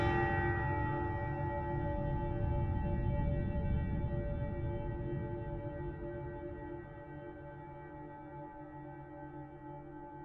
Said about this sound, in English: 3 more bells to go